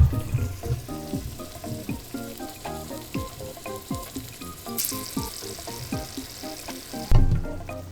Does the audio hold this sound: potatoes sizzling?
yes